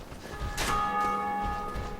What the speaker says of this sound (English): That was another player who rang the first bell.